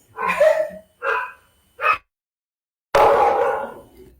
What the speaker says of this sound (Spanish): Un minutito que están ahí ladrando de mis perritos.